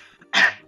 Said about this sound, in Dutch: Je barstte uit met hoest.